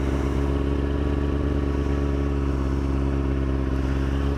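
A motorcycle engine held at high revs during rolling burnout practice, a loud, continuous, steady drone with no breaks.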